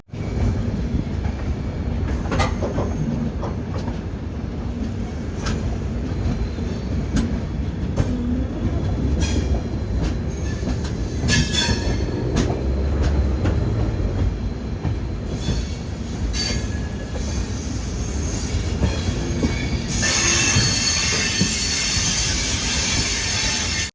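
A first class AC train pulls into Tiruchirappalli Junction after the run from Chennai Egmore, its loud steady rumble of wheels on rails broken by clicks and a high squeal of braking wheels.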